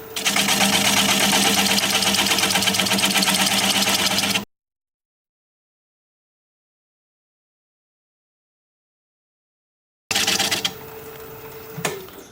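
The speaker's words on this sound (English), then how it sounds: "I'm going to take a 1/2 inch standard grind bowl gouge and just start working that tenon away." Wood lathe spinning a live-edge rectangular bowl blank at about 500 rpm while a 1/2 inch standard grind bowl gouge cuts away the tenon, a loud, steady rattling drone that cuts out mid-clip, then returns briefly and drops to a quieter hum.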